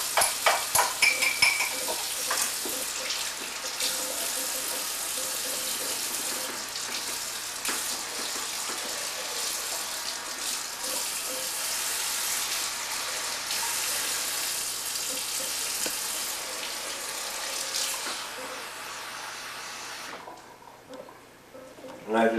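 Tap water running into a container to prepare water for dissolving bread yeast, a continuous broadband splashing rush lasting about twenty seconds with small clinks, fading near the end.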